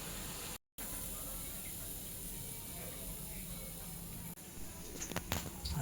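Vada pav vadas, battered potato fritters, deep-frying in hot oil give off a steady, dense sizzling hiss with one brief dropout, and a few light clatters near the end.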